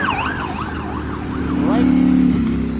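Ambulance siren wailing on a road in traffic, its rising and falling tone clear and fairly close, then shifting into a steadier blare over low car engine rumble.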